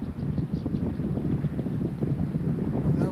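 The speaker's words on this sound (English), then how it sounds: "if we could just get the wind to quit, it'd be gorgeous out." Continuous, freezing wind rumbling against the microphone while fishing outdoors, low and blustery with small gusts, no voices.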